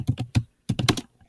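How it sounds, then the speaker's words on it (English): Typing on a computer keyboard while entering a quote onto a note card: two close bursts of rapid keystrokes separated by a short pause, loud and near, with no talking. "then you can type your quote onto the note card from your book."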